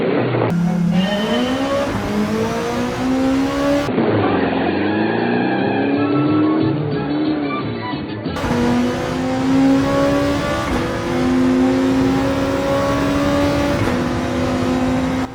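Race cars launching from the start line at Deep Forest in Gran Turismo 7 roar loudly with rising engine revs and repeated gear-shift drops, several cars' engines layered close together.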